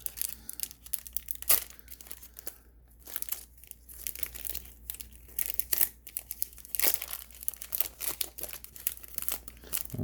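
Foil wrapper of a 1990 Topps baseball card pack crinkling and tearing as it is cut open up close, with scattered sharp rustles and crackles over about ten seconds and no talk.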